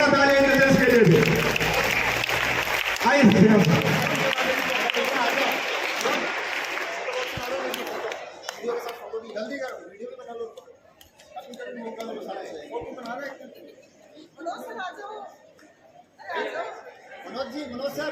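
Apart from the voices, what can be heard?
audience applause for the judges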